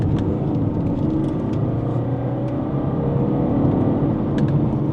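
A BMW 220d Gran Coupe accelerates hard toward a corner, its engine a loud, steady, close rumble and whir that holds for the whole stretch with no voices.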